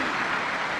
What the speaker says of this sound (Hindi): एक बार सभी विदिशा वासियों के लिए जोरदार ताली बजाकर स्वागत